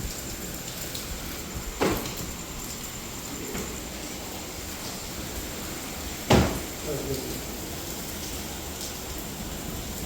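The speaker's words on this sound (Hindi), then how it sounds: "हवा भी तेज़ है और बारिश भी तेज़ आ रही है।" Constant heavy rain hisses in the background amid strong wind, interrupted by two brief knocks or thuds partway through.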